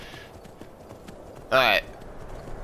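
Hooves of a reindeer mount in Skyrim: Anniversary Edition clip-clop steadily beneath a man's speech, with a short, loud, whinny-like animal call bursting out midway.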